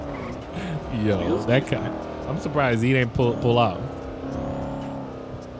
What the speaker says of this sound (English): You did a burnout. I can't handle it. The car doesn't grip.